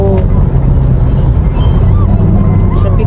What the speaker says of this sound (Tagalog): Yan, ganyan. Traffic na yan dito.